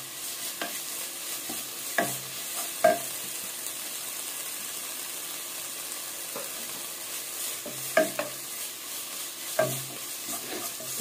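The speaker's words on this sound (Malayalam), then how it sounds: "നല്ല പോലെ ഒന്ന് ഇളക്കി കൊടുത്തിട്ട്" Vegetable kurma is stirred in a pan with coriander and mint leaves added, a soft sizzle running underneath while a spoon scrapes and knocks against the pan in scattered, irregular strokes.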